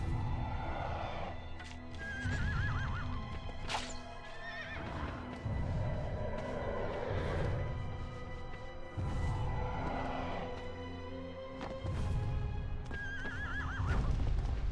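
Horse neighing and whinnying in the Shadow of the Colossus game, several loud whinnies spread across the clip with game music and hoof clip-clops underneath.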